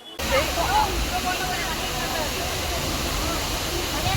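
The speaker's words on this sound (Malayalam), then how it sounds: "ഇവിടെ താഴോട്ടൊക്കെ ആയിട്ട് നല്ല രീതിക്ക് വെള്ളം ഫോഴ്സിന് വീണ് ഒഴുകി പോകുന്നുണ്ട്" Water falling hard at Valanjanganam waterfall in Kerala during light rain, a loud, constant roaring rush that fills the scene from start to finish.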